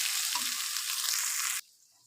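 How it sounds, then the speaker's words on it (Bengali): Whole spices fry in hot oil in a pan for a vegetable dish, a loud, bright, steady sizzle close up that cuts off abruptly near the end, with no voices. "মশলাটি ভাজা ভাজা করে নিব।"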